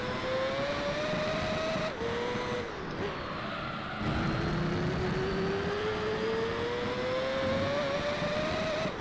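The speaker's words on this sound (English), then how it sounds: "Very unique sounding engine" Race car engine in Gran Turismo 3, a distinctive-sounding GT40 or Zonda, droning loud and steady with a rising pitch, briefly dipping as gears shift around two and four seconds, then climbing smoothly again.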